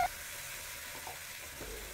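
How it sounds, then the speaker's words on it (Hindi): A masala paste of green chili, ginger, garlic and onion frying in a pan over a low gas flame, giving a steady, faint, even sizzle throughout with no talk. "मसाला फ्राई करने के टाइम गैस की आग को थोड़ा लो फ्लेम में रखा"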